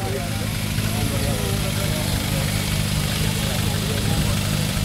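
A Kawasaki 500 H1 motorcycle engine runs steadily and loudly up close, a continuous rumbling drone that holds without a break.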